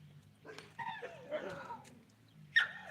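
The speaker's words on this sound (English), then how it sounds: "There's a dog whining." A dog whines and yips faintly in short, high, wavering bursts, with a sharper cry near the end over quiet background.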